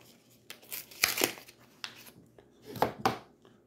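Pens are pulled from stiff plastic packaging, with sharp crinkling, tearing and scraping bursts at irregular intervals, close up and fairly quiet.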